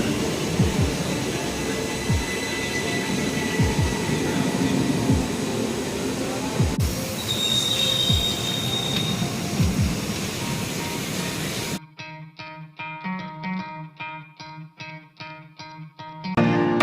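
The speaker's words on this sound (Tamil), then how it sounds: "நம்ம திருவனந்தபுரம் போய்ட்டு இந்த ட்ரெயினில் தான் போக போகிறோம்" A Thiruvananthapuram–Trichy intercity express train rolls on its rails with a loud, steady rumble, which cuts off abruptly near the end to a run of clipped musical tones.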